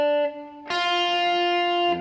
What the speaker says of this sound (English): So the second string will sound like this,